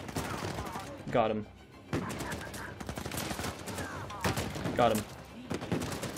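Gunfire in the video game Uncharted 4: A Thief's End, a burst of rapid shots cracking repeatedly over several seconds, loud and close, while a person talks excitedly over the fighting.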